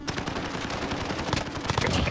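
Rapid automatic gunfire from the video game Modern Warfare in Gun Game mode hammers away, dense overlapping shots close and loud throughout.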